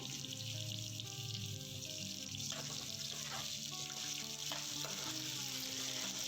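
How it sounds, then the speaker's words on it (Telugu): Chopped onions fry and sizzle in a pan for poha as a spoon stirs them, a steady close hiss with scraping strokes and soft clatter throughout, no talking. "అందులో మనం కట్ చేసి పెట్టుకున్న ఉల్లిగడ్డ వేసి కొద్దిగా కలర్ చేంజ్ అయ్యేంత వరకు బాగా కలుపుకోవాలి"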